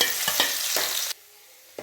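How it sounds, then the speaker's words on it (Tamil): Ginger and garlic sizzle loudly in sesame oil with mustard seeds for a citrus pickle, then the sound cuts off abruptly to near silence. "இஞ்சி பூண்டு நல்லா வதங்கிருச்சு"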